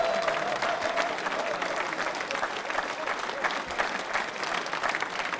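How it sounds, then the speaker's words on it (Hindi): Dense, continuous crowd applause at a quiz show for accounts officers, following a dance performance. Many hands clap steadily and evenly for several seconds with a faint murmur of voices underneath. "तालियां बजाइए पूजा जी, जोरदार तालियां बजाइए"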